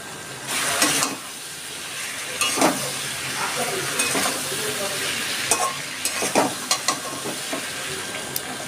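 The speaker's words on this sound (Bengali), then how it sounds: "এবার আমি দিয়ে দিচ্ছি পটলগুলো।" Pointed gourd (potol) sizzles in hot oil in a pan with fennel powder, with several bursts of scraping and stirring, the frying hiss steady and fairly close.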